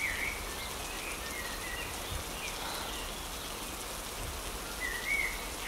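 Steady rain falls continuously at moderate level in an outdoor setting, a soft even hiss with occasional faint bird chirps, no voices.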